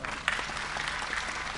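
A comedy show audience applauds a Gujarati joke set by Mayabhai Ahir. The clapping is soft and distant, a brief, even patter with a single louder clap near the start.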